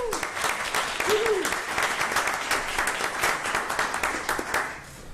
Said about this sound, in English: So let's give our mentors a round of applause as well.